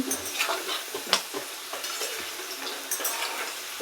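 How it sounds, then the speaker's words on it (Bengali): Potatoes frying in oil with a little turmeric, a bright continuous sizzle with repeated spatters and crackling pops plus light spatula stirring, close and moderately loud, no voices. "আলুটা খুব সুন্দরভাবে ভাজা হয়ে গিয়েছে"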